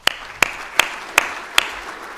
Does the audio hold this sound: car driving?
no